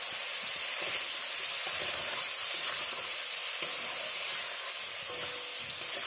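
Ginger and garlic paste fry in a pan for a Bengali-style chitol fish curry, making a steady, close sizzling hiss with faint stirring scrapes throughout and no speech.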